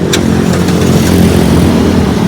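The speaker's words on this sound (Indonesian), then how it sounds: "Ini suara mesin" A Toyota Fortuner V 4x4 engine idles nearby, a loud, steady, smooth hum with a constant low drone and no variation in pace, heard alone.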